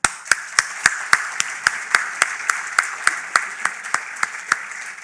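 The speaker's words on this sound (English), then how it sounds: "So therefore, how do we applaud?" Rhythmic audience clapping at an awards ceremony, a crowd striking hands together in a steady, evenly spaced beat, sharp and fairly close, continuing throughout.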